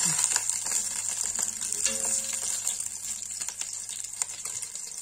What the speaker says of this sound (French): de les faire cuire dans leur jus de tomate